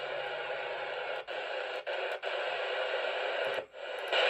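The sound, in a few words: CB radio static with high cut filter on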